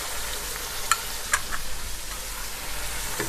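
Coriander powder and coconut powder fry for a chicken korma, giving a steady close sizzle, while a spoon stirs through it with a couple of sharp metallic clinks against the pot.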